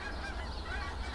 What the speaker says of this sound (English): Also, look, geese.